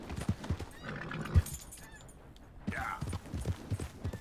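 Horse in the video game Red Dead Redemption 2, with clip-clop hooves and a whinny; several close hoof thuds at the start, a short gap, then more hoof steps and a neigh near the end.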